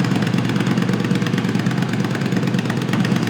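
A homemade vehicle's engine runs steadily and fairly loudly up close, a continuous low throbbing idle with no talking over it.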